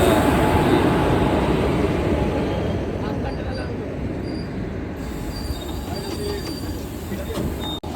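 A Kolkata metro train rolls into the station, its wheels squealing and rumbling loud and close in a continuous roar that eases slightly as it slows, with a sharp clunk at the end.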